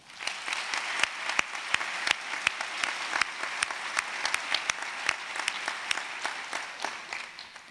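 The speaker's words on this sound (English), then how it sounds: "Join me in a round of applause for board member Larry Hujo" Applause from an audience at a school district leadership kickoff event honoring a board member, steady clapping lasting several seconds with a few sharp louder claps standing out.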